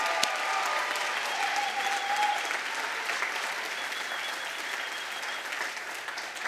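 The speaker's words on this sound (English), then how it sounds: "Give yourselves a round of applause." Warm applause from a crowd of new students at a Columbia GS welcome event, a sustained wash of clapping that holds steady and gradually softens.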